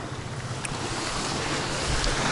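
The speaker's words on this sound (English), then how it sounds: "This is one of the famous places to be in Zanzibar. It's called Nungwi Beach." Ocean surf at Nungwi Beach, Zanzibar, sounding as a steady, dense wash of breaking waves mixed with gusty wind buffeting the microphone, continuous and fairly loud with no voices.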